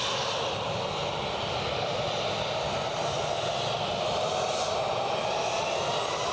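A KLM aircraft taxis into a siding at Edinburgh airport, its engines giving a steady, fairly loud whine and hum with no break.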